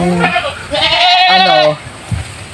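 A goat bleats in a farm setting, with several loud, wavering nasal calls close to the listener, the longest in the middle, and faint background noise between them.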